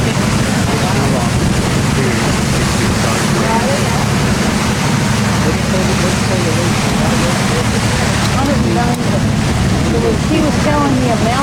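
Fast water of the St. Clair River rapids in Ontario rushes past in a loud, continuous broadband roar, close and steady, with wind buffeting the microphone and people speaking over it.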